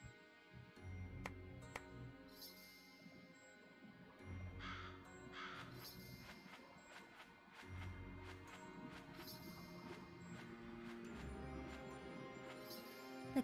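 Kasugai crow cawing in Demon Slayer The Hinokami Chronicles, repeated harsh caws spread over several seconds above a low rumbling game soundtrack.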